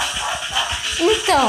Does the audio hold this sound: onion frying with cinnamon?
no